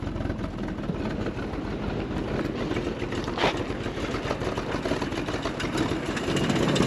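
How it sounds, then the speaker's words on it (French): A 1959 Triumph TR3A engine idles a little too low, giving a steady low rumble with an even, slightly lumpy rhythm, close by, with no talking over it. "ralenti un peu trop bas. Et malgré tout, elle tourne"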